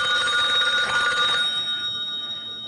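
A telephone bell rings with a bright, metallic trill for over a second, then fades out, heard alone and fairly close.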